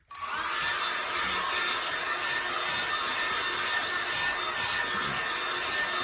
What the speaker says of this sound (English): maybe I'll hit it with a hairdryer a little bit